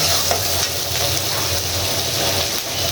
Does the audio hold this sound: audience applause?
no